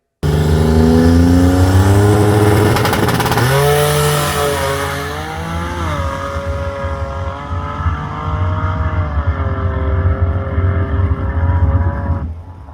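A Buick Grand National drag car makes passes at a raceway, its engine loud and close as it revs hard and runs through rising, shifting gears for most of the stretch before the roar eases near the end.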